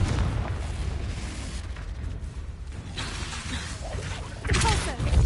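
A Confringo spell explodes in Hogwarts Legacy. A rumbling, muffled boom swells and then bursts more sharply near the end, amid game clatter.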